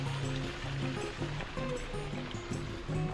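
Strong natural spring water gushing at Poniente Springs nature resort in Amadeo, a steady close rush with faint voices in the background.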